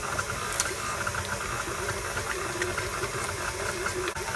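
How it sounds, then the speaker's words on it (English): An electric mixer beats an egg into butter and sugar with a steady, close mechanical whir and rattle that continues unbroken throughout. "now we're going to beat in the eggs and vanilla"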